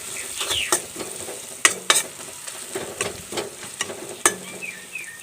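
Spices and turmeric frying in a pan: a continuous sizzle with several sharp scraping stirs and utensil clinks, close and fairly loud, no talking.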